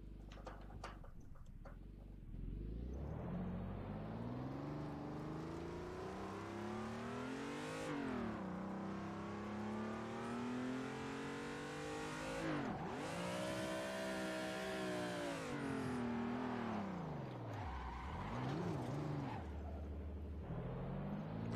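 Car engine in a racing video game revs and swoops up and down continuously through a drift and spin-out on an online server, loud and close, with rising and falling whine and no talk.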